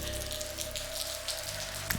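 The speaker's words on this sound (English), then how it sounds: "The pouring rain couldn't deter me." Pouring rain at a town gate in Château-Thierry, France, a steady dense patter of drops hitting surfaces, constant and even throughout, with a faint low hum beneath and no voices.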